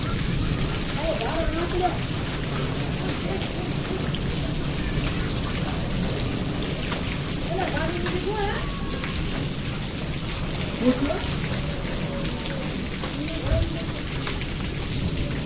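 Steady heavy rain with hail pours down during a summer storm with a constant dense patter, with occasional sharper hailstone impacts and faint voices in the background.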